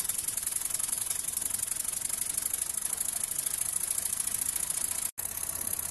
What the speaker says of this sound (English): It's an amazing little engine.